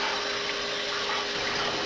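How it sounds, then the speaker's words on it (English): Tap water rushing steadily into a cooking pot for pasta in a home kitchen, a continuous broadband hiss with a faint steady tone, close and even throughout the short stretch, no talking. "get some water here in the pot"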